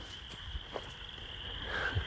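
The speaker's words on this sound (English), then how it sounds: "And hear the frogs." Faint frogs call beside a large swamp at the edge of a cleared stump area, a thin steady high trill with a few soft low croaks and light rustling nearby.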